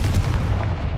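Confringo blasting spell from Hogwarts Legacy: a single low, dense rumbling boom filling the whole second, loud and close with a heavy bass roar and no voices.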